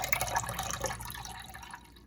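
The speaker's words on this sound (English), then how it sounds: "we're gonna drain the water and blot it with the paper towel" Water drips and trickles off a block of tofu being drained, a short burst of close, splashy droplets that thins out and fades away.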